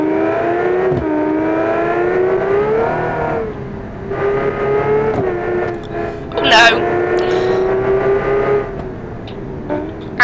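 Race car in a car-building video game driven gently around a track, its engine holding a steady high drone with rising and falling revs and a brief tire squeal, under a voice talking over it.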